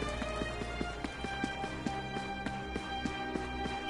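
Sylvando's horse in the video game Dragon Quest 11 trots along with a steady, evenly spaced clip-clop of hooves over a low music bed, moderately loud and continuous.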